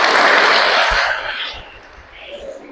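Applause from a classroom of students for a classmate during a midwifery teaching session, a broad steady wash of clapping at moderate loudness that thins and fades toward the end.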